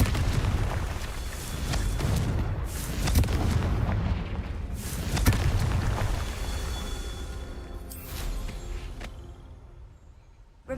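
Confringo blasting spells explode in Hogwarts Legacy, a dense run of heavy booms and crackling blasts rolling almost continuously, loud and close, with the rumble easing toward the end.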